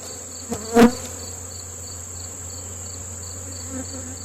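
Honey bees fill an opened hive during fall feeding with a steady, close buzzing drone, broken early on by a brief knock.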